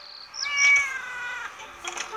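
A cartoon cat meows in The Sims FreePlay video game: one drawn-out, high, wavering meow followed by softer short mews, fairly quiet and with no talking.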